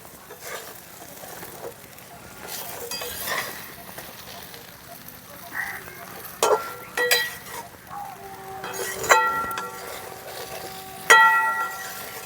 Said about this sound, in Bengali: মশলার সঙ্গে ভাজা বেগুনটা 2 মিনিটের মতন খুব সুন্দর করে মিশিয়ে নিয়েছি